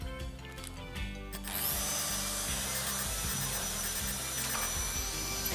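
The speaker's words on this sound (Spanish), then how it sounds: "taladro, broca para metal y hacemos los orificios." A power drill with a metal bit whines steadily at close range, boring holes in metal, its broadband grinding continuous for several seconds after a brief start-up with a low hum underneath.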